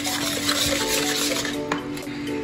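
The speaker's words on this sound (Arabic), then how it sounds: "هنقلبهم كويس مع بعض" A utensil steadily stirs a liquid batter mixture in a bowl, giving soft continuous swishing and scraping with a few light clinks against the side, close and with no voices.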